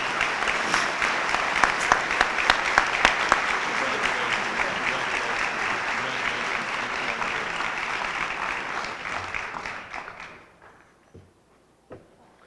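An awards ceremony audience applauds an honoree, a dense, loud wash of clapping that holds steady for about ten seconds before dying away into scattered final claps.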